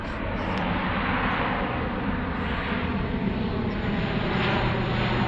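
A big C-130 transport aircraft passes low overhead outdoors, a loud steady propeller drone filling the scene throughout.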